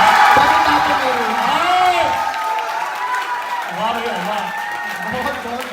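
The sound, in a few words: college audience clapping and cheering after poem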